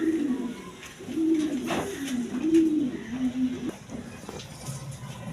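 Pigeons, including a pair of pankhi pigeons kept for sale, coo in a low repeated rolling rhythm close by, several phrases in a row.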